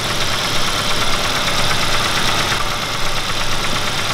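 A repaired car engine idles close up in a workshop, holding a loud steady rumble under 1000 rpm with no breaks.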